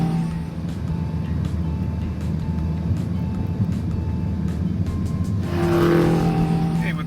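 A Honda Civic engine runs steadily during an intake boost test, a continuous moderate drone that swells louder and brighter near the end as it revs up.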